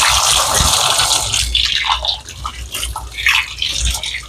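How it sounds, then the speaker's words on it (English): Water runs from a sink tap and splashes as hands are washed in a kitchen, a close, uneven rushing with shifting splashes and drips. "And once I touch the eggs, I like washing my hands,"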